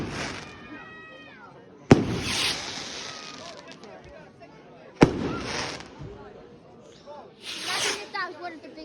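Two sharp firework bangs burst close by a few seconds apart, each trailing into crackling hiss, while onlookers talk through and between the explosions.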